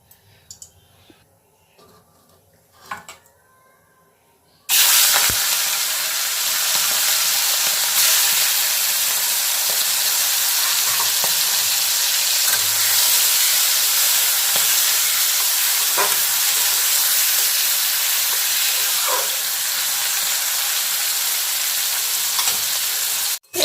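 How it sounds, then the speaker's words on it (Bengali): Prawns dropped into hot oil in a wok: after quiet opening seconds with faint clicks, a loud, dense, continuous sizzle bursts in and holds steady, close and unbroken to the end. "এই যে কড়াতে তেল দিয়েছি, এখন আমি চিংড়ি মাছগুলো ভাজবো। চলো চিংড়ি মাছগুলো ভেজে নিই।"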